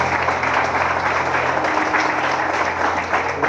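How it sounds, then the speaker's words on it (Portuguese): A church congregation applauds loudly and continuously, a dense, close wash of clapping hands with a low hum running underneath. "Então eu quero que você aplaude o Senhor Jesus e bem forte agora."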